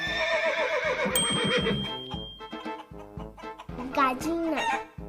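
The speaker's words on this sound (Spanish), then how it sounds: "Caballo." A horse neighs with a loud, quavering whinny over a busy farmyard mix, where a rooster crow and a short ringing tone also stand out.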